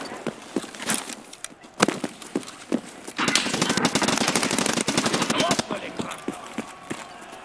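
Bursts of automatic gunfire in the Escape From Tarkov Arena shooter, first scattered single cracks, then a sustained rapid volley of shots, with quieter spaced shots after, loud and close over game ambience.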